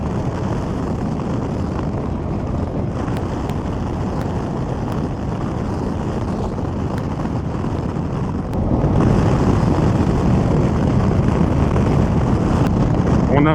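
A Yamaha R7 motorcycle in A2 trim, fitted with an aftermarket exhaust, pulls hard in fourth gear from about 50 km/h. The engine roar is steady and swells louder partway through, buried under heavy rushing wind noise.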